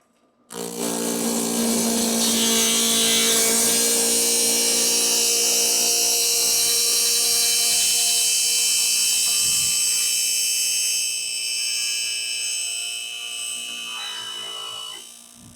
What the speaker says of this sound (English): start and raise the blade until it cuts the slot in the throat plate